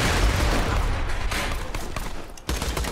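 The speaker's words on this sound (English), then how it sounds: "That's an effective explosive." Game explosion and gunfire from the video game Borderlands 2, a dense, loud barrage of blasts and rapid shots that continues throughout, with a sharp fresh burst near the end.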